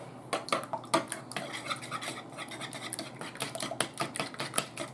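Two whole eggs and two yolks are whisked together in a bowl for yellow cake batter, a quick rhythmic scraping and clicking of utensil against the bowl, close and steady.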